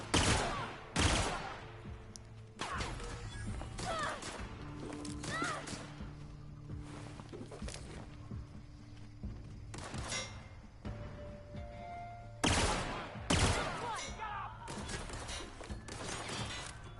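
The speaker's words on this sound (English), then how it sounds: "I hate pulse weapons" Pulse weapons fire in The Outer Worlds in loud, sharp bursts that come again and again, with shorter volleys and background game sounds between them. A voice may speak faintly underneath.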